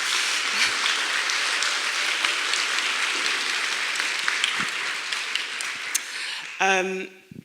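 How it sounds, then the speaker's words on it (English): Warm applause from a seated audience welcoming three panel guests at a talk, an even spread of many hands clapping, moderately loud, before fading out as a voice begins at the end. "maybe just to give them a nice warm round of applause."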